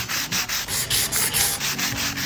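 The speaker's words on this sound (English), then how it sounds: "removing all of this and sanding it down so the paint would stick to it" Steady, rhythmic scratchy sanding strokes, loud and close, repeating back and forth without pause.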